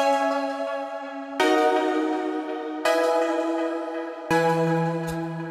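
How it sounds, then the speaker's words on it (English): Electric piano chords played in a slow sequence, four sustained chords with bright, rich tones and a lingering ring, clear and upfront with no voices. "I guess I would classify this as electric piano."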